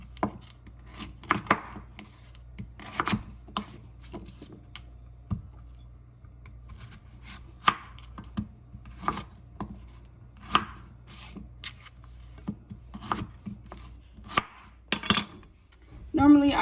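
A knife chops apples and beets on a cutting board in sharp, uneven bursts of close, crisp knocks separated by brief pauses.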